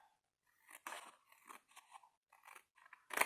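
Paper being cut with scissors while trimming sheets for a scrapbooking project: a series of short crisp snips and crunchy slices in irregular bursts, close and fairly quiet, ending in one louder cut.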